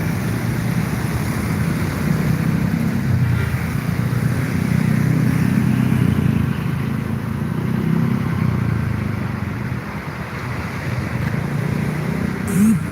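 Buses and other vehicles in a traffic jam at Bulak Kapal, Bekasi, including Prima Jasa and Trans Wibawa Mukti buses, produce a steady, close engine rumble that stays loud throughout with no talking.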